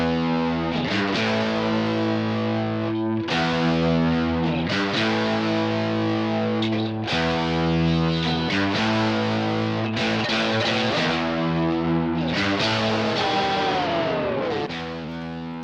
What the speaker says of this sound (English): These guitars are used to create more body in the chorus.